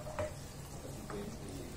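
Garlic sautéing in a pan for carbonara, a soft steady sizzle with faint stirring scrapes, close and quiet.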